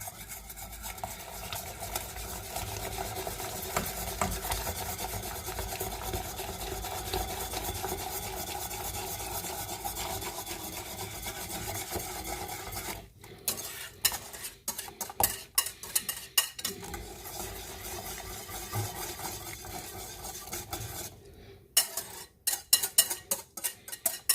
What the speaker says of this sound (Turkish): şimdi bu karışımımızı çorbamızın içerisine hızlı hızlı karıştırarak ama böyle cidden hızlı hızlı karıştırarak ilave ediyoruz